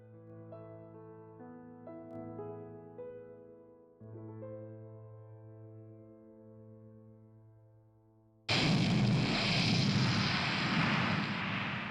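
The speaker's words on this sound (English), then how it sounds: "An Atlas V rocket tore through the Florida sky" Tonal music plays for several seconds, then the roar of an Atlas V rocket launching from Florida on July 30, 2020 suddenly bursts in, a loud, dense, sustained rumble to the end.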